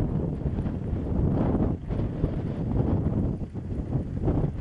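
Wind blows hard at a forest fire in a wooded area near Kızılkeçili village in Çanakkale, Turkey, a rough, gusting roar buffeting the microphone with brief lulls, and no voices.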